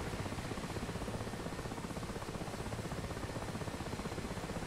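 A Mi-8 helicopter in the DCS flight simulator, a loud, steady rotor and turbine roar with a fast rhythmic blade thump, heard from inside or close by, constant throughout with no talk.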